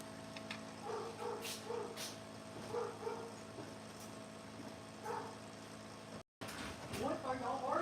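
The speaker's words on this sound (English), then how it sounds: "What are y'all barking at?" Dogs bark in short bursts at a moderate distance, a few yips and woofs spaced across a steady low background hum.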